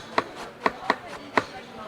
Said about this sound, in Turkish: Tabi bunda çok ince doğrayamazsın.